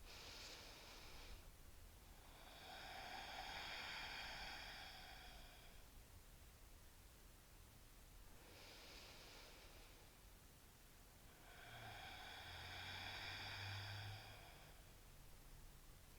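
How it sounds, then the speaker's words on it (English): Slow, deep yoga breaths close to the microphone, two full cycles of breathy inhale then longer exhale, each rising and falling softly and evenly with no talking. "let's take 3 more breaths"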